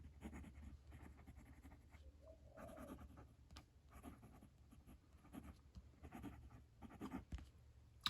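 A Majohn A2 fountain pen with Diamine Majestic Purple ink scratching softly across paper, faint close strokes in short irregular bursts with no talking.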